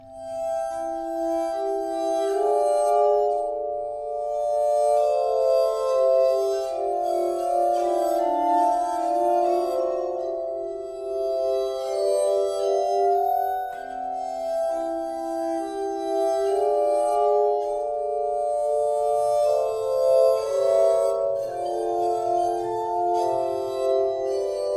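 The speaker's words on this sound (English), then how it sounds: "if you run your finger around the top of the glass, that creates the sound" Sustained, ringing glass-harmonica tones come from a finger rubbed around the rims of water-filled glasses, playing a slow, overlapping melody that sounds loud and close, alone and without talk.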